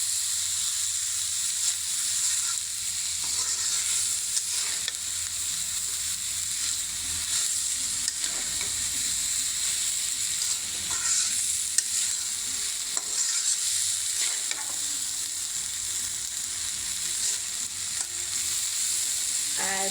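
Khichuri cooking in very little oil gives a steady, dense sizzling hiss, with soft, irregular stirring scrapes running through it for the whole stretch.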